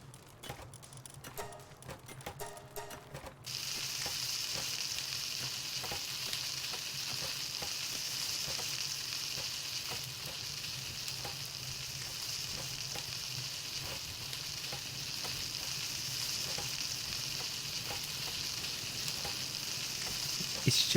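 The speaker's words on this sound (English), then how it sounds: "The cooking noise is so loud." Cooking in the Palworld video game: a loud, steady frying sizzle comes in abruptly after a few seconds of clicking and continues unbroken, with no talk.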